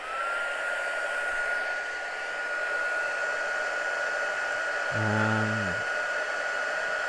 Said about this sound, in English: Embossing gun, embossing gun.